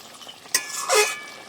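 A tangra fish curry with potato and tomato is stirred in a pan, giving two brief, close scraping strokes over a low simmer.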